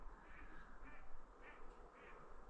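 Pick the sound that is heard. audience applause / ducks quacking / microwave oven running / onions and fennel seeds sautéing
ducks quacking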